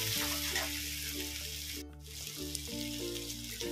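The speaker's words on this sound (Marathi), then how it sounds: "याचा कलर चेंज होईपर्यंत आपण याला फ्राय करायचं आहे" Soybeans frying in hot oil in a pan, a steady close sizzle with soft stirring scrapes over a low background hum, no talking.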